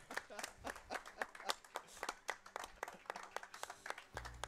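Scattered hand claps from a small audience at a speedrunning event, an uneven patter of applause that carries on steadily.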